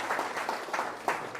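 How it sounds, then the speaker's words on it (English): An audience at a talk on rezoning and property value gives a short round of applause, a dense patter of many hands clapping at close range, with a few louder claps standing out near the end. "give a quick round of applause again for Whiteacre, Joni Ennis, and this team"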